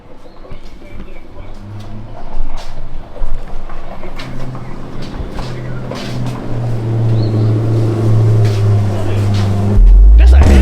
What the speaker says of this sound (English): That's a Hellcat, fool. Bruh. That's that Hellcat Durango.